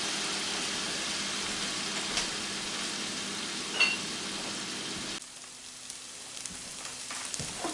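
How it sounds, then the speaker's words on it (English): Mushrooms with a splash of white wine sauté in a pan for a steakhouse burger, giving a steady loud sizzle that drops abruptly to a quieter, softer crackle partway through, with no talking. "once those mushrooms get sauteed down until they're just about done"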